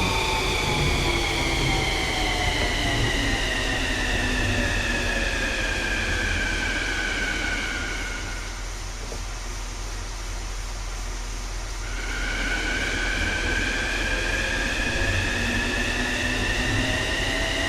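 A Kawasaki M8 Metro-North commuter train runs in a train simulator, a loud, steady rumbling roar with rising and falling whine tones that dip briefly in the middle before the drone returns, heard alone without talk.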